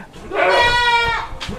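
PE goats bleat in a pen, one long wavering nanny-style call rising loud and close, followed by a shorter cry, with faint background stirring.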